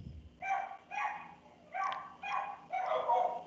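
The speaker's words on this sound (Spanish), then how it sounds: "hay como muchos perros, entonces se escucha mucho ruido" Several dogs barking outside during an online class, repeated bursts of barks in an uneven rhythm, moderately distant and faint, with no speech over them.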